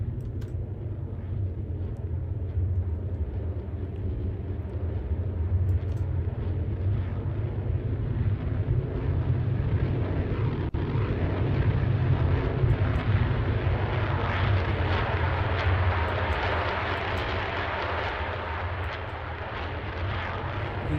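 Jet engines of an F-22 fighter in a Roblox aerobatics game, a continuous loud roar that swells slightly near the middle and stays steady with no talking.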